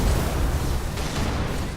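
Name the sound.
phantom exploding in Halo 3 video game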